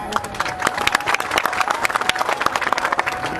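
Audience applause at a political gathering, a dense run of many hands clapping with sharp, irregular claps throughout and a murmur of crowd voices mixed in.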